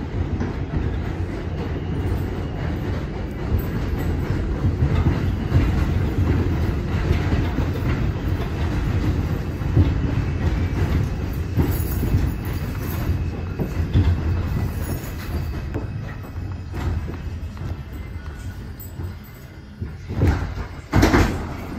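An R142 5 local subway train in New York rumbles steadily along the tracks, a loud low roar with rattling wheels and a brief squeal of metal near the end.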